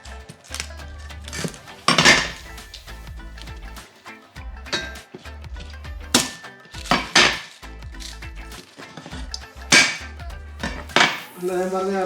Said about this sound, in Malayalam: ഈ സാധനം എല്ലാം കൂടെ എടുത്തിട്ടേ നമുക്ക് ഈ പാത്രത്തിലോട്ടിട്ട് നമുക്കൊന്ന് ചെറുതായിട്ടൊന്ന് വേവിച്ചെടുക്കാം